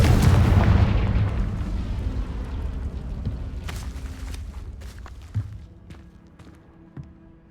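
Confringo fire spell from Hogwarts Legacy on PC goes off as a big close explosion at the start, its heavy boom decaying into a long rumbling tail with a few smaller crackles and thuds.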